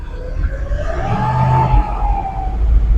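A vehicle engine with a generator light fault is revved briefly, its pitch climbing and then easing back down as a rising-and-falling whine over a low rumble, close and fairly loud, with no talk.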